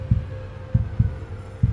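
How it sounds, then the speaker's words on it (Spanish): A slow, deep heartbeat effect with a faint murmur: paired low thumps repeating at a calm, steady pace over a soft continuous hum, with no other sounds. "el latido tranquilo y profundo de un corazón murmurando ligeramente"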